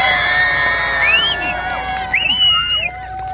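A festival crowd at the 2023 Sangju World Hat Festival cheers, whoops and shouts, with some applause under shrill rising whistles, loud and continuous throughout.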